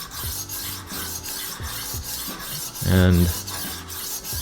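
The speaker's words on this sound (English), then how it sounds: "You can really hear already how the diamond plated disc is now starting to sharpen that edge" Rolling knife sharpener with a diamond-plated disc grinding a dull kitchen knife edge, a steady rhythmic rasping scrape repeated in short strokes, close and fairly loud, swelling to a louder pass near the end.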